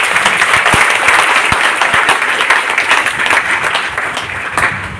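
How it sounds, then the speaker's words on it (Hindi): An audience applauds for Ishwar ji at a crowded gathering, steady loud clapping filling five seconds with a few sharper individual claps standing out. "ईश्वर जी के लिए तालियां दीजिए"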